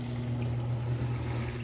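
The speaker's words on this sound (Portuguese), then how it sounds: "Tá indo para 3 minutos drenando." A Consul 13 kg Maxi Economia washing machine draining water, a continuous low pump hum with steady rushing and trickling water, close by and with no talk.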